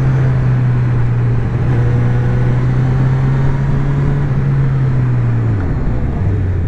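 Honda CB1000R motorcycle engine cruising steadily in fifth gear, a constant loud low drone with a smooth held pitch that dips slightly near the end, heard from the rider's position with wind noise and no talk.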